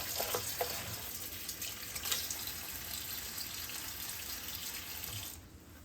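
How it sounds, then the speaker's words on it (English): A faucet runs lukewarm water into a sink with a steady splashing hiss and a few brief spatters, stopping suddenly just before the end. "put some lukewarm tap water"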